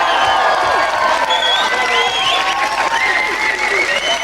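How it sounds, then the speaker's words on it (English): A TV studio audience applauds loudly for a comedy double act on a 1993 chat show, with steady dense clapping, cheers and whoops rising over it throughout. "Big round of applause."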